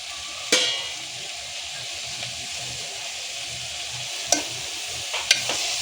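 Dal being stirred into a rustic-style pot of cauliflower and onion vegetable curry, a steady sizzling hiss under a few sharp scrapes and clinks of the spoon against the pot, with no talk.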